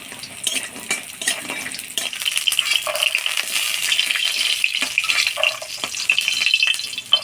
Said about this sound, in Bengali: ডালের বড়িটা আমি সরষের তেল দিয়ে ভাজি নেব